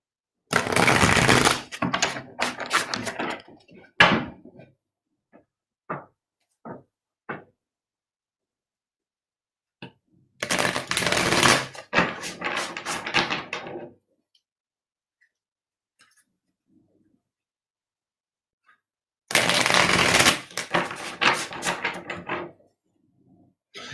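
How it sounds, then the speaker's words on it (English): Three bursts of papery riffling and flicking as tarot cards are shuffled close by, with a few sharp taps between, separated by long quiet gaps. "It's funny, as I'm shuffling these cards, Mary, the way that they're coming together,"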